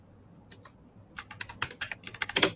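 A computer keyboard clicks as a search is typed in, first a few isolated taps and then a quick, close burst of uneven keystrokes that grows busier toward the end, with no voices.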